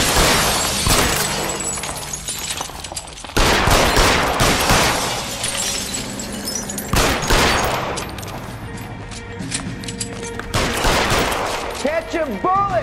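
Gunfight in the video game L.A. Noire: dense bursts of gunfire and sharp shots with breaking, shattering impacts, loud and continuous across the stretch, with brief voice lines mixed in.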